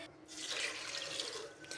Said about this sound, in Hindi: ये मैंने इसमें 1 जग पानी का डाला है।